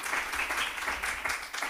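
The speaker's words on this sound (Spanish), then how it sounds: "Démosle un aplauso de bienvenida" Welcoming applause from an audience at a book presentation, a brief burst of dense clapping that stays steady and fairly loud throughout.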